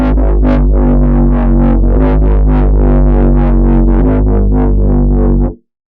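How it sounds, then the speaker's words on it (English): A gritty, distorted synth bass made in the Vital synthesizer plays a steady rhythmic pattern of repeated notes, loud and continuous, then cuts off abruptly near the end. "we're gonna turn on the distortion and drive this"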